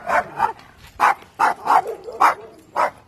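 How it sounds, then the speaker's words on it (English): Dogs barking near a bus being readied for conversion, about eight sharp, loud barks in an uneven series with short gaps between them. "Vicious dogs. Vicious."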